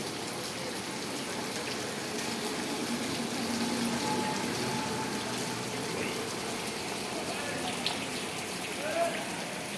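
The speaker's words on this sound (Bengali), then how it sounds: "এখন টিনের চাল থেকে পানি পড়তেছে।" Rainwater pours and drips off a tin roof in the evening after a sudden heavy storm, a steady dense wash of falling water with scattered louder drips, fairly close and continuous throughout.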